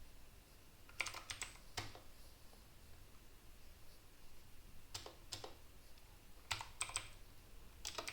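Clusters of quick keystrokes tapped on a computer keyboard, arriving in short bursts separated by pauses, close and fairly quiet with no talking.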